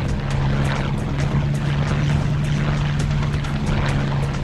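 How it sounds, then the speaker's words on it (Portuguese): Propeller airplane droning in the flight game Flying Tigers: Shadows Over China, a loud, continuous engine hum with a steady low tone and a rushing wash of air, unbroken throughout. "Não é fácil pilotar esse avião não, tá, gente?"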